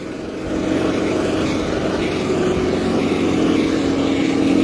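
A parked tractor idles with a steady, continuous low engine drone that holds at an even level throughout, close by and unbroken, with no talking.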